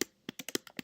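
Rapid computer keyboard typing while entering a line of Java code, about seven crisp key clicks in an uneven burst, close and clear with no talk.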